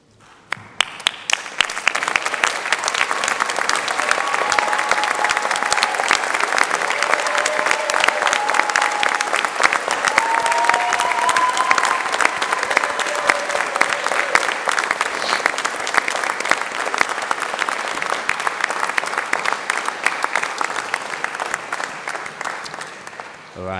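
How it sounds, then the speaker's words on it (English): Standing graduates at a university health, education and life sciences ceremony give a long, loud round of applause, dense crowd clapping building within the first second and holding steady for over twenty seconds before cutting off, with faint cheering voices mixed in. "join me in giving them a well-deserved round of applause"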